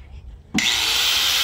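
An angle grinder cuts into a steel rebar ring for a tie beam at a small house construction site, its disc starting abruptly into a loud, steady, high-pitched metallic whine at close range.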